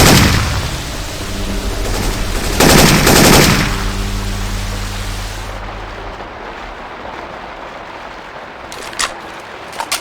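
Bursts of rapid gunfire from Syphon Filter weapon sounds dropped into the zombie shooter Left 4 Dead 2, loud and dense at first with a heavier burst near the middle, then fading to quiet with a few sharp single shots at the end.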